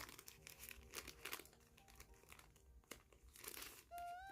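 Plastic packaging around the cable of a Genshin Impact Xiao mechanical keyboard crinkles and crackles as it is opened, a busy close-up rustle that ends in a brief high tone.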